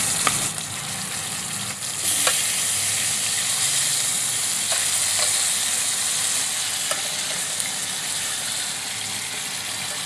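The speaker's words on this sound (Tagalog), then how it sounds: "Prito tamo ng bahagya." Steady, loud sizzling of chicken frying in a pan, a continuous crackling hiss with a few faint clinks of a utensil.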